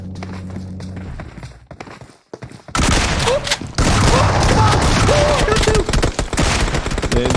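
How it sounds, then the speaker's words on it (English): Gunfire in a PUBG Mobile esports tournament match: after a quiet stretch, loud dense bursts of shots and booms erupt and continue nearly without pause, with footstep-like clatter mixed in. "They're just shooting for shooting"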